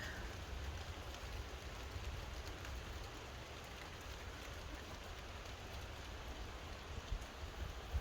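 Steady rain falls continuously in fog on the Appalachian Trail near Blood Mountain, a soft even hiss with occasional faint drips, no voices.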